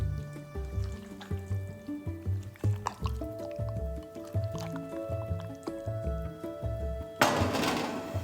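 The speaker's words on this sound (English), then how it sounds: "drop them straight into the sauce. Toss thoroughly until every piece is fully coated" Chicken wings are tossed in a bowl of sauce until they are fully coated, giving wet, sticky squelches and sloshes in a loose rhythm. The sound is close and fairly quiet, with a brief louder rustle near the end.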